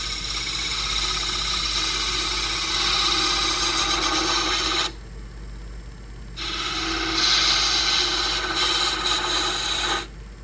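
A spindle gouge cuts a spinning wooden workpiece on a lathe for a baby rattle, giving a loud steady scraping rasp over motor hum, pausing for over a second midway before resuming.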